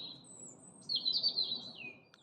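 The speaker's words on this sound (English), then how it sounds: "The birds are incredible." Birdsong in a winter garden with raised beds: a thin high whistle early, then a brighter run of chirps in the middle, clear and fairly close over a soft low background hum.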